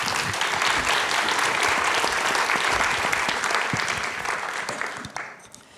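Sustained audience applause welcoming a panel and moderator at a health summit in Portland, dense close clapping that holds steady and then tapers off toward the end.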